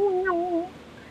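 A house cat gives a clear, close meow, a short rising and falling cry, then a fainter second call after a brief pause.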